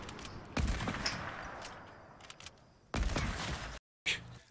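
Gunfire in the video game Fortnite, a one-shot mode: several loud, sharp shots and short bursts spaced apart, each trailing off, with a brief silent dropout near the end; no one speaks.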